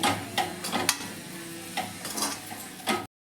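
A spoon stirs fenugreek leaf gravy in a pan, giving soft scraping strokes in a few irregular bursts with faint sizzling underneath, close by and quiet, with no voices.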